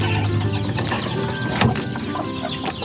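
Mother hens on a poultry farm cluck close by, brooding new chicks to keep them warm, with continuous overlapping clucks and faint peeping from the chicks.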